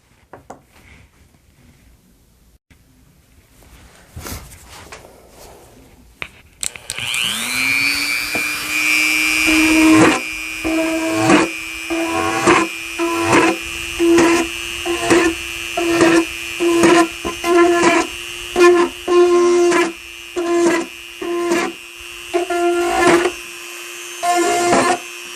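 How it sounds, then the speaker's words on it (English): A power drill bores holes in plastic containers being prepared for winter sowing, a steady whining motor broken into repeated short bursts, loud and close with no talking. "So let me get to drilling first."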